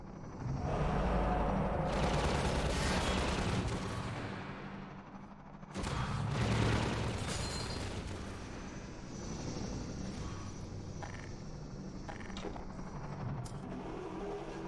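Gunfire and heavy explosive bursts in Half-Life 2, loud rumbling blasts with a roaring engine-like wash, two strong surges followed by a sustained lower din.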